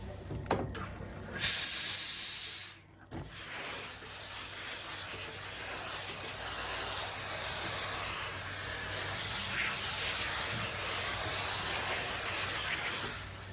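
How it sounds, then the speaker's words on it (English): Steam iron hissing as it fuses SF101 interfacing to quilt-pillow fabric: a loud sharp burst of steam near the start, a brief cutoff, then a steady, softer hiss lasting throughout with no talk. "I do like to use steam when I adhere my SF101"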